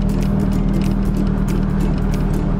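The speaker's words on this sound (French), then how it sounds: "on se prend à écouter le ronronnement de cette voiture de plus de 70 ans" A more-than-70-year-old vintage car, its engine of the type fitted to the first Citroën DS, purrs steadily while driving downhill, a loud, even low rumble throughout with no talk.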